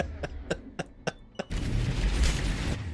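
A grenade explodes in the Mass Effect 3 video game, a loud burst of noise that fills the scene for over a second, following a run of short, sharp, thumping impacts.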